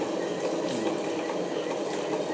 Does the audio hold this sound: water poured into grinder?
yes